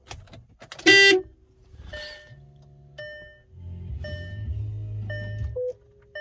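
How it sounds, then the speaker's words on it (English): On a 2008 VW Beetle converted to electric drive, the power steering pump kicks in as a steady low electric hum, along with a short loud honk-like burst and several electronic beeps. "hear the power steering pump kick in."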